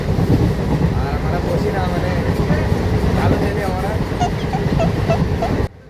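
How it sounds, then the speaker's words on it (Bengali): Passenger train running at high speed on the Salar to Berhampore line in Bengal, a loud continuous rumble and rattle of wheels and carriages heard from inside, with squealing tones near the end before it cuts off abruptly. "ট্রেনটা খুবই স্পিডে যাচ্ছিলো তার জন্য ভয়েসটা ভালো করে আমাদের ক্লিয়ার আসছিল না"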